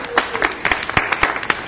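An audience at a small gathering claps together, a steady burst of close, uneven hand claps without talk.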